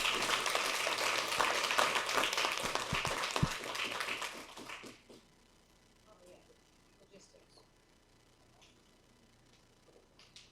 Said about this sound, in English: So let's give them a warm round of applause for their work.